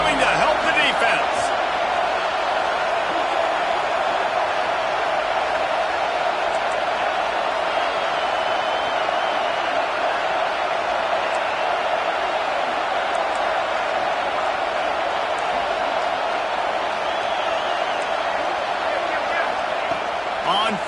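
Dense, steady roar of a college football stadium crowd during a late fourth-down defensive stand, loud and sustained for the whole stretch with no letup and faint scattered shouts within the wash of noise.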